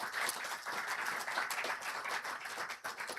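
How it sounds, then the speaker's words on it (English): A quick round of applause from the audience at a Scouts SA annual general meeting, dense clapping from many people, fairly faint and distant, sustained evenly throughout. "if you could just give them a quick round of applause"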